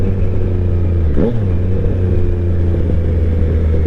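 Triumph Street Triple 765 RS motorcycle engine droning steadily while being ridden, with a brief rev rising and falling near the start, loud and close throughout.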